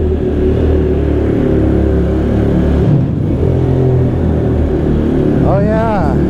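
A motorcycle engine runs steadily and loud throughout, with low rumble and mid-range drone that briefly dips and swells as the rider moves, plus a short rising whine near the end.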